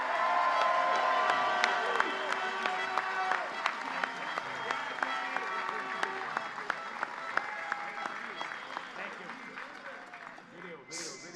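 Large crowd applauding and cheering for Danny Webb at the Argos Grey Cup championship rally, a dense sustained wash of clapping with scattered whoops that gradually thins toward the end, a voice speaking over part of it.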